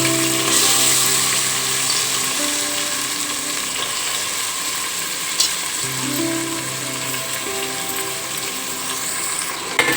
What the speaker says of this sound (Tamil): இப்போ நம்ம வெங்காயம் போட போகிறோங்க.